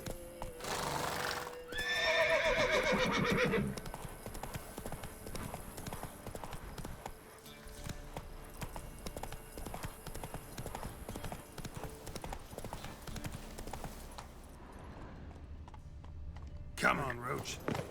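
A horse in the video game The Witcher 3 galloping: rapid, rhythmic hoofbeats run throughout, with a loud neigh near the start.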